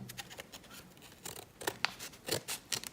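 Scissors cut open a paper envelope, a quiet close series of short snips and crisp paper scratches, uneven in rhythm and getting sharper toward the end.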